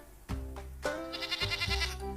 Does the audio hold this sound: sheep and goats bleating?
yes